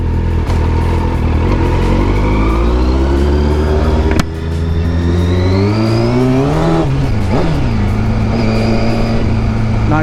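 A Yamaha R1 1000cc sport bike accelerates hard on a test ride, its engine note climbing loud and close through rising revs, with a gear change mid-run before pulling up again.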